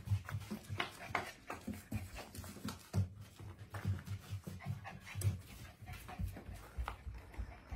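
A puppy at a dog shelter panting in quick, rhythmic breaths close by, with soft shuffling and a faint whimpering undertone, no clear talking.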